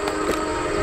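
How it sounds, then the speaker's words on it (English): A QJ steam locomotive, number 6988, running on the Iowa Interstate Railroad's Newton subdivision gives a loud, continuous mechanical rumble and hiss that holds steady throughout. "Oh, were you chasing that steam train?"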